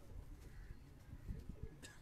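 Pigeons on a city rooftop coo softly in low, repeated throaty bursts, faint and somewhat distant against quiet background hiss.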